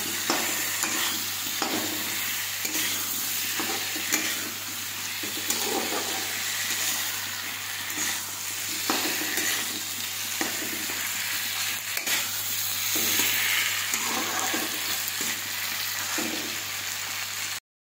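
Pork and cut potatoes frying in oil in a pan, stirred steadily: a continuous close sizzle with repeated scraping strokes of the spoon throughout, no voices.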